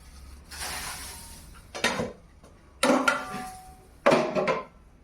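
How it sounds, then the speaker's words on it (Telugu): The metal lid of a steamer pot of homemade momos is lifted off, giving several separate clanks and scrapes spaced a second or so apart, close by with no talk. "సో నేనైతే మూత అయితే తీసేసుకుంటున్నాను"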